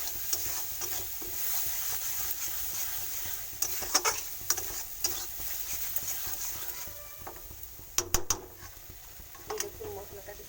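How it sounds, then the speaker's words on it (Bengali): Mutton masala is stirred and fried in oil until the oil separates, with a low continuous sizzle broken by sharp scraping and clattering strokes of the spoon against the pan. "তেল ছাড়া অবধি আমাকে এটা কষে যেতে হবে।"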